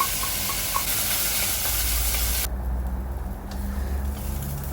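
Jeerakasala rice sautéed in a pan over a medium flame for vegetable pulao makes a loud, steady, close sizzling hiss that shifts to a slightly softer tone partway through.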